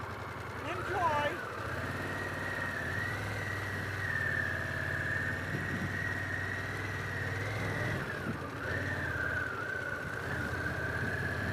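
A Harley-Davidson Pan America motorcycle engine idles at a dealership with a low, even rumble, surging slightly once or twice over a steady near drone.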